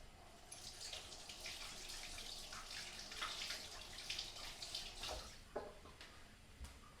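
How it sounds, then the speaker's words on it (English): Hands are washed under a running kitchen tap, a steady soft splash of water with a few drips and a faint clunk near the end, quiet and close. "Wash my hands."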